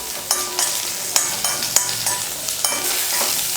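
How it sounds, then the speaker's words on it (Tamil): Small onions, grated coconut, ginger and garlic sauté in hot oil for a hotel-style parotta salna, giving a steady close sizzle broken by sharp spoon scrapes against the pan. "வெங்காயம் தேங்காயெல்லாம் வதங்கிருச்சு."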